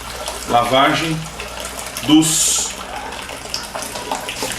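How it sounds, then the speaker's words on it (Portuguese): Five litres of water are poured to rinse the malt during home brewing, a running, faucet-like rush heard close by while someone talks over it in Portuguese. "Vou botar aqui 5 litros de água para fazer a lavagem."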